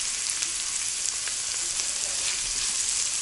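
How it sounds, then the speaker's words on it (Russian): Coarsely chopped onion and carrot stew in vegetable oil, a dense, even sizzle that stays loud and close throughout with no voices. "Тушим мы, крупно порезав лук и морковь. Я добавила растительное масло."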